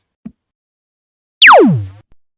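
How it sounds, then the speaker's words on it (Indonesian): A single synthetic spaceship video game laser shot, a bright tone sweeping sharply downward, loud and close, preceded by a faint click. "Ya seperti itu suara tembakan laser."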